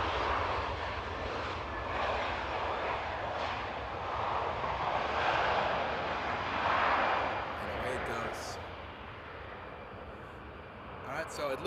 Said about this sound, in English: On the northern runway we're going to see Turkish 330.